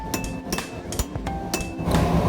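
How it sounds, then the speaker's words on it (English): Hot steel struck with a hammer on a hot cut hardy to cut it off during blacksmith forging, a few sharp, ringing metallic blows at an uneven pace, loud and close with no talk. "then you can use the hot cut hardy to just cut this thing off quick and easy"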